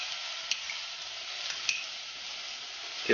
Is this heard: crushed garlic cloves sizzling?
yes